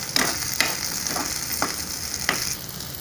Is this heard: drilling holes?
no